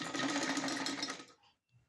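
Sewing machine stitching an old sweater, running steadily and close for over a second, then slowing and stopping, with a few soft handling sounds after.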